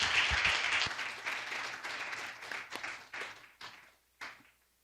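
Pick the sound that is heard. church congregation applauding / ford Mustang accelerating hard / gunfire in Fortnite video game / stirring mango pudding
church congregation applauding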